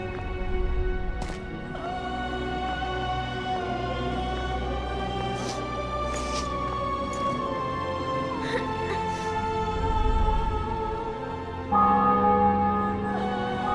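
Church bells ring out over a city square in The Witcher 2, a steady tolling with layered tones against a busy backdrop of horses' hooves and crowd ambience, continuing throughout.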